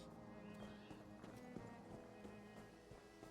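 Video game horse hooves clip-clop at a steady trotting rhythm over a constant tonal background hum.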